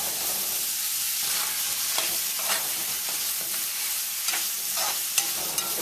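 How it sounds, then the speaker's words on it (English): Steady, continuous sizzling as shrimp curry stir-fries in a hot pot, with occasional scraping clicks of a utensil stirring and tossing the shrimp. "keep sort of stir frying it, tossing it around just to pick up all that curry goodness on the bottom of the pot"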